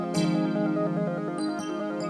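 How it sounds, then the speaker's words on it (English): Distorted, electric-guitar-like digi rip synth lead holding a sustained buzzy note with a brief pitch bend, bright and up front. "I got this kind of sounded like an electric guitar. This digi rip lead"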